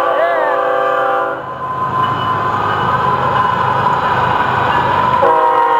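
A loud, steady Florida East Coast Railway locomotive whistle blasts near and close, with a brief dip mid-blast, over the rumble of a passing train.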